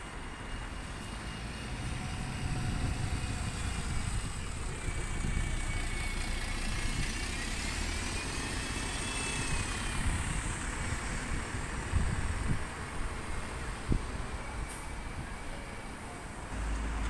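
A Volvo B7TL double-decker bus pulls away with a steady, moderately distant engine drone that hums on for well over a quarter minute, with no talk.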